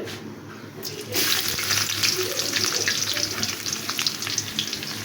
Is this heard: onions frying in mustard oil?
yes